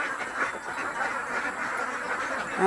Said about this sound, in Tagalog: ito yung pagsisimula niya ng kanyang itik Pinas.